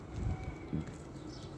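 Soft, low pigeon coos, two brief murmuring calls over faint outdoor background, close and quiet.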